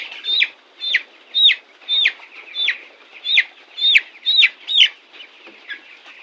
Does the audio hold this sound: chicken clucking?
yes